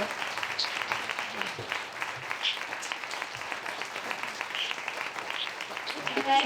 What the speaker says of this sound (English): So let's give Paige another applause.